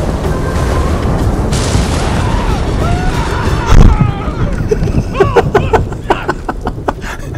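Thunder strikes from the Heavenly Strike attack in the samurai game Ghost of Tsushima crackle and boom over a dense layer of combat noise, with a heavier hit near the middle and several sharp cracks toward the end.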